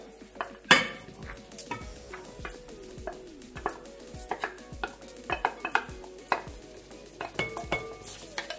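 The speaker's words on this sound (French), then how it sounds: "Là maintenant, nous mélangeons le reste de légumes." A spoon scrapes and clinks steadily against a pan while tomato, three peppers and softened vegetables are stirred together, giving a close, rhythmic series of knocks over a faint sizzle.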